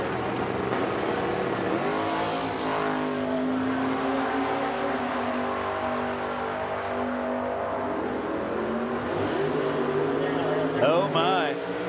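A 1957 Corvette Roadster at a drag strip revs and drones with a loud, rising engine note, staged and pulling away amid other engine noise, with a commentator talking over it throughout.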